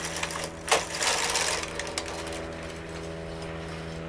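A Brother 341 portable knitting machine carriage being pushed slowly across the needle bed with yarn, giving a continuous mechanical whirring rasp with a sharp clack early on and a steady hum behind it.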